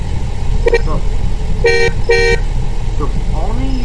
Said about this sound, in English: and you honk your horn.